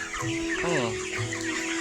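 Broiler chickens in a poultry shed cluck and squawk close by, short throaty calls rising and falling over a steady mechanical hum.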